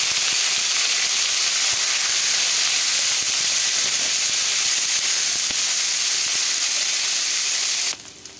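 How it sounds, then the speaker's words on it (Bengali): Spiny gourd and pointed gourd fry in hot oil with bay leaf, dried chilli and five-spice tempering, a loud continuous hiss that holds steady for about eight seconds before dropping away abruptly. "প্রথমে আমি কাঁকরোল আর পটল ভাজবো।"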